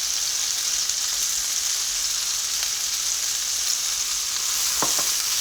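Garlic cloves sautéing with tomatoes and onions in a pan for a farmers market pasta salad, a steady, loud hiss of frying with a couple of faint stirring clicks near the end and no talking.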